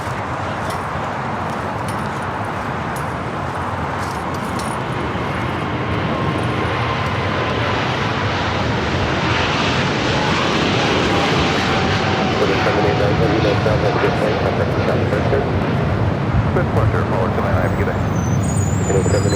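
A DHL cargo jet rolls down runway 25 left at LAX, its engine roar building steadily and growing louder as it heads toward takeoff, with voices talking over the noise.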